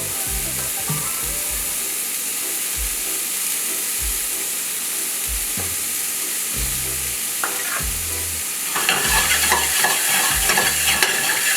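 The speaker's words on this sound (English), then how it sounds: "I'm gonna kind of break up the barbacoa just a little bit." Shredded barbacoa sizzling and frying in a nonstick pan for migas, steady hiss with repeated scraping stirs of a utensil every second or so, louder sizzle burst near the end.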